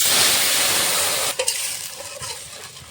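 Ground spice paste of green chilli, dried chilli, ginger and cumin with salt and turmeric frying in a pan for a rohu fish curry: a steady hiss and sizzle that quiets midway, then soft stirring scrapes with no voices.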